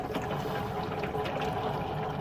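Water drains steadily through the tube of a caravan washing machine with an E1 fault. A constant rushing flow stays moderately quiet and even throughout.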